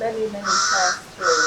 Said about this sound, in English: And we can hear a crow in the background.